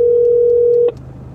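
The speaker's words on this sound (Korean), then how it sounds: "전화" A steady telephone dialing tone hums loudly and evenly for almost a second, then cuts off abruptly, leaving a faint low hum behind.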